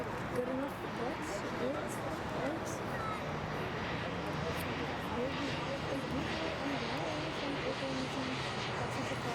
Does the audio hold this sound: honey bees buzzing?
no